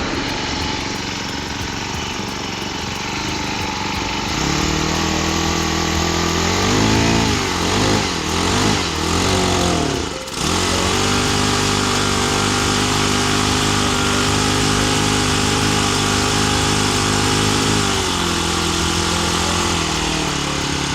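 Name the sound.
small engine running after starting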